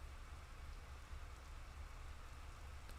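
Quiet, steady drizzle of rain in the visual novel game Tsukihime, a soft continuous patter that holds evenly throughout with no voices.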